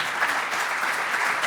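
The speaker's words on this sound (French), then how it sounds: "qu'on va applaudir chaleureusement" Audience clapping warmly after a panel of speakers, a steady dense wash of applause from a roomful of people, with no voices over it.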